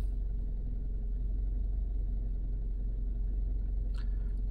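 A Mazda 3 with a low-idle fault (idle control system, RPM lower than expected) idles with a steady, low, even rumble, plus one brief click near the end. No one speaks.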